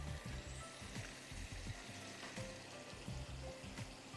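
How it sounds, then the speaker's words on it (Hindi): Onion frying in melted butter in a pan gives a steady close sizzle and crackle, with occasional soft stirring scrapes and no talking. "फिर इस वाले पैन में यहाँ जब मक्खन हो जाए तो आपने इसमें प्याज डाल देना है"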